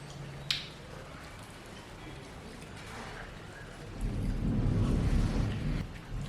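Steady rain with a low rumble of thunder that swells and lingers in the second half, heard from indoors during cooking, with a sharp knock near the start.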